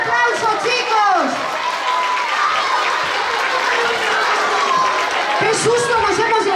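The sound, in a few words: audience applause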